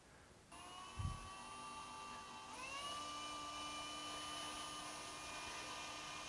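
A power drill whines steadily at high pitch, starting abruptly and then climbing to a louder, harsher sustained grind as it bites into the metal of a cheap deadbolt lock, with no talking.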